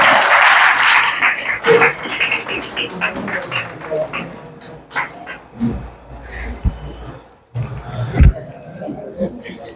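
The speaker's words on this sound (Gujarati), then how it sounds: "તાળીઓથી વધાવીએ" An audience applauds to welcome a speaker at a college lecture program, a loud burst of clapping at the start that fades into scattered claps under people talking.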